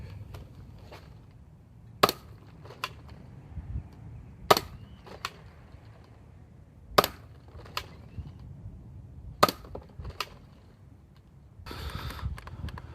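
A modded Nerf Doomlands Double Lawbringer blaster fires yellow Kush foam darts, four sharp snapping shots spaced about two and a half seconds apart over a low background hum, with smaller clicks of handling between them.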